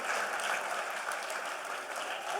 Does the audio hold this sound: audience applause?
yes